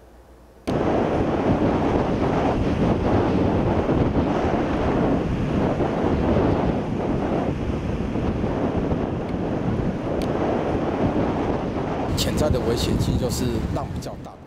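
Ocean surf breaks on a beach, a loud continuous wash of waves mixed with heavy wind buffeting the microphone, running steadily for most of the clip after an abrupt start.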